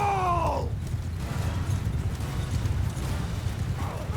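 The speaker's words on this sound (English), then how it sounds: "Always a horse in the way." Horses clip-clop in Mount and Blade II Bannerlord, a continuous gallop of hooves under a low rumble of battle noise, with a brief whinny-like cry at the start.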